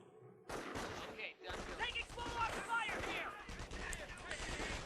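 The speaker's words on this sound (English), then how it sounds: "And over here, I'm fighting yet another MG42." Sustained MG42 machine-gun fire in a Company of Heroes World War II battle, loud dense bursts of automatic shots and crashing impacts running almost continuously, with a voice talking over the gunfire.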